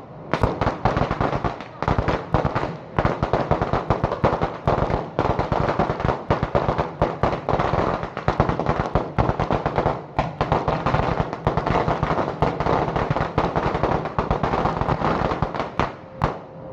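Rapid strings of 500-round rapid-fire New Year firecrackers crackle and pop continuously, loud and close, in dense overlapping bursts with almost no pause.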